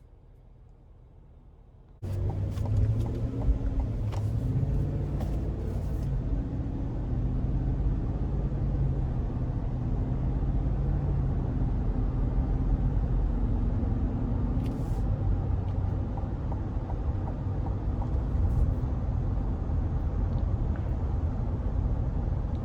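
A 2021 Cadillac Escalade Premium Luxury pulling away and cruising on the road, a steady low engine and road rumble from inside the cabin after a quiet start, continuous and even.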